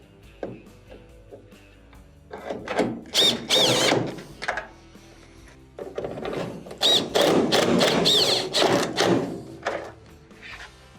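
A power drill drives 1/4-inch screws back into a GE dryer during a drum bearing repair, whirring in two close, loud clusters of short bursts separated by a pause, with faint clicks between.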